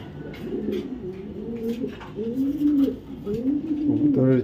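Racing pigeons, including a female racer, coo in a breeding loft, repeated low throaty coos rolling in close, steady phrases while someone talks over them.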